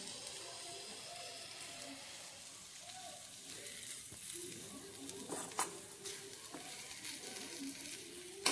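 Drumstick leaves fry in a pan, with a steady close sizzle and hiss while a utensil stirs, scraping and tapping lightly at intervals.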